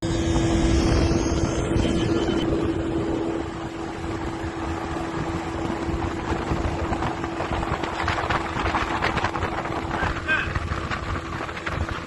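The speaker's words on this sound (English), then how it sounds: "The amphibious plane is simply scooping up water to fight the fire." An amphibious firefighting plane skims across a lake scooping up water, a loud continuous roar of engines and rushing spray that stays broad and steady throughout.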